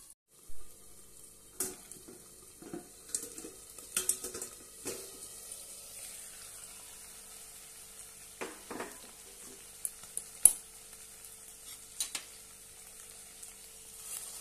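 Chopped ridge gourd cooks in a pan with crushed peanuts, steamed under a plate with water on top, giving a soft, steady sizzle broken by occasional louder pops and crackles.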